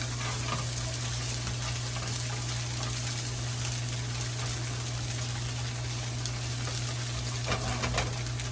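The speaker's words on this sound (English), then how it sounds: "Meanwhile, your garlic is heating up." Garlic and tofu fry in a pan with a steady, close sizzle and crackle that holds throughout, plus a constant low hum underneath and no talking.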